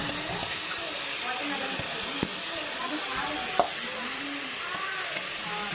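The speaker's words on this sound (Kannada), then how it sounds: "ಫ್ರೈ ಆಗಿರುವಂಥ ಒಗ್ಗರಣೆಗೆ ಅಕ್ಕಿ ಹಾಕಬೇಕು." Washed rice tipped into a pan of fried tempering and stirred, giving a steady close hiss and sizzle with a few faint scraping knocks, no voice present.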